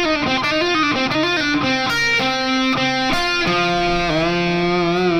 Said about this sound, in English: Okay, so the lick altogether slow would sound like this.